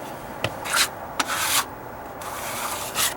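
Wet mortar skimmed over deck stairs with a trowel, several close rasping scrapes in uneven strokes with short pauses between, no talk.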